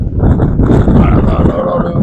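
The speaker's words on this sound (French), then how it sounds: "Ah là là là, le vent." Strong wind buffets the microphone outdoors near trees, a loud, steady low rumble of gusts with no pauses for the full two seconds.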